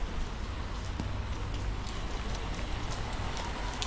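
Steady rain falls in a constant hiss with scattered drips and patters on surfaces nearby, no voices.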